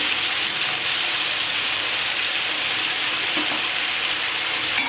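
Chopped tomatoes hit a pan of frying vegetables, giving a steady, bright sizzle that holds evenly throughout, with faint stirring and no voices.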